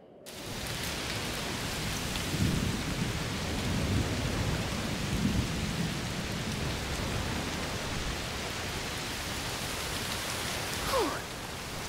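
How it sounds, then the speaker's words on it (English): Steady heavy rain pours in A Plague Tale: Requiem, a dense continuous hiss with low rumbling thunder rolling underneath and a brief sharper crack near the end. "Must be a heat storm."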